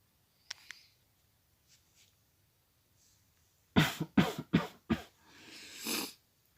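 A quick burst of four harsh coughs close by, followed by a breathy exhale, after a quiet stretch with a few faint clicks.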